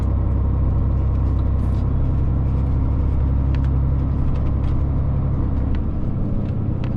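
Steady low engine rumble of a car cruising slowly along a street past a parked Trabant in Berlin, continuous and fairly close with light traffic noise, no voices.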